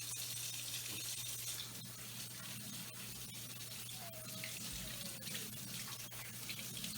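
A tap runs steadily into a sink during handwashing, a constant close rushing stream with small splashes and no voices.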